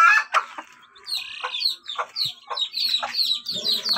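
A mother hen clucks near chicks, with repeated short clucks and chirpy peeps in uneven bursts, fairly close and clear, with no talking.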